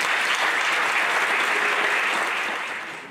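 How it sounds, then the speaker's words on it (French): Dense, even applause from an assembled audience at a village festival gathering, a continuous wash of clapping that holds steady and fades slightly at the end. "je voudrais qu'on l'applaudisse"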